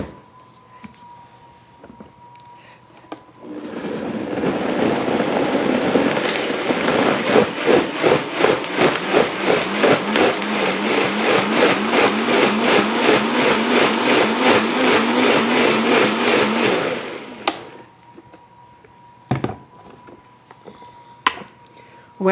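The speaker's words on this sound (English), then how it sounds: "So we are going to put these softened cooked veggies in the blender" Blender whirring through softened roasted vegetables with chicken broth, a loud steady motor grind with rhythmic churning pulses lasting about fourteen seconds, then cutting off abruptly into quiet room tone with a few clicks.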